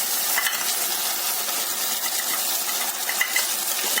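Masala paste of ginger, green chilli and garlic sizzles and fries steadily in a pan for vegetable biryani, a loud, close, continuous hiss with faint stirring scrapes on top.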